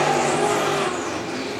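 A traditional sprint race car on Hoosier Racing tires powering off turn 4 at Tri-City Motor Speedway, a loud sustained high engine roar that fades slightly as it pulls away.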